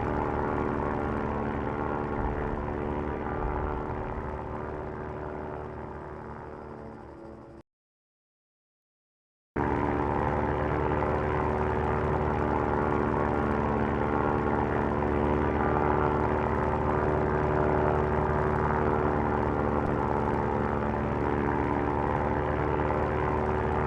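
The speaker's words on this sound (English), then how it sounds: "If I was flying an aeroplane that's this shaky, I'd be a little bit worried" A shaky aeroplane in the survival game Stranded Deep drones with a steady propeller-engine hum, cutting out briefly for a couple of seconds midway before resuming at full, constant level without talk.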